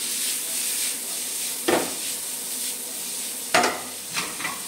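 Steady hiss of bacon sizzling in a frying pan, with two sharp scraping stirs of a utensil and a few smaller clinks later, close and alone without talk.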